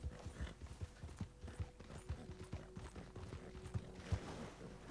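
Horse hooves clip-clop in steady rhythm in the Red Dead Online video game, a run of regular near thuds lasting the whole stretch over a faint low hum.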